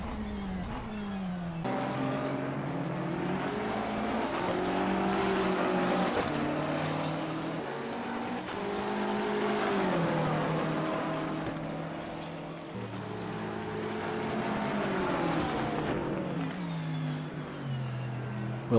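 A Ferrari GT3 race car engine at Laguna Seca in a racing video game, droning loudly and continuously as the revs rise and fall through gear changes and corners, with no voice heard.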